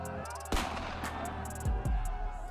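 Pirate ship cannons fire in a video game, heavy booming blasts landing irregularly, with a big hit early and two deep thuds near the end over a steady background rumble.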